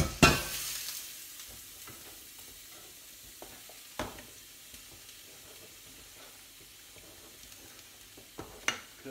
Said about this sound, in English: Just sizzling all over the place.